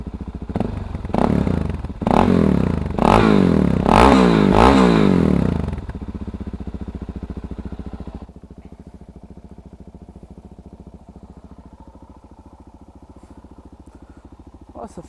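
Close up, a Suzuki DRZ 400 SM single with an FMF exhaust line blips through several sharp revs, then drops to a quieter, steady thumping idle that runs on to the end.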